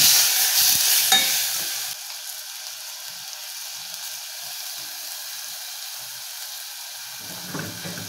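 Chicken sautéed with garlic, onion and tomatoes for kaldereta gives a loud, close sizzle with stirring at first, then a steadier, quieter frying hiss that carries on alone.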